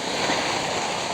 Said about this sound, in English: Next thing I'm going to do is water it